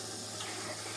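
Tap water running into a household sink, a steady close hiss of flowing water with no talking.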